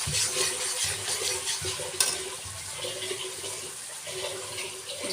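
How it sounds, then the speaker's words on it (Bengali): Mustard hilsa curry with green chili being stirred in a pan, a close bubbling sizzle with wet scraping and stirring strokes, steady and moderately quiet. "দিয়ে নেড়ে নেব।"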